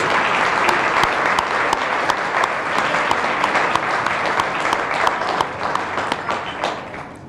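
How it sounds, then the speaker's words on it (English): At a chamber of commerce annual meeting, the audience gives loud, sustained applause to three long-serving members as they stand, crisp overlapping claps continuing evenly before tapering slightly at the end. "If you three could please stand and just give them a round of applause as well"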